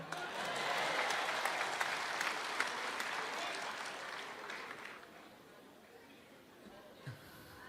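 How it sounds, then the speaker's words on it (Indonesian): An audience at a Christmas 2025 gathering breaks into dense, loud applause that holds for several seconds and then gradually thins and fades toward the end. "Boleh tepuk tangan?"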